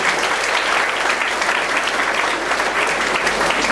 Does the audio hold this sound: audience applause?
yes